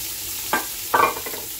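Chopped onions sizzling in a pan with black cumin seeds, two quick spatula stirs cutting through the steady hiss, close up with no talking.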